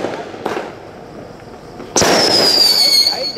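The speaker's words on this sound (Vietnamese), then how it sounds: "Đây là pháo lợn, nó dân hướng. Pháo lợn nó kêu." A Vietnamese pháo lợn firecracker goes off with a sharp, loud bang close by, then a sustained hissing, whistling spray. Faint thumps come before it, and voices may be in the background.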